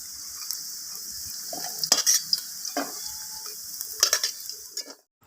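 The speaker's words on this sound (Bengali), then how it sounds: "পনিরগুলো ভাজা হয়ে গেছে, তুলে নিচ্ছি" Pieces of homemade paneer are lifted out of hot oil, with a faint sizzle under a few metallic clinks and scrapes of a utensil against the pan, close by and quiet, no speech.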